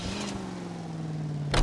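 A car in the video game L.A. Noire pulls away with a steady engine hum that drops slightly in pitch as it goes, and a brief louder burst lands near the end.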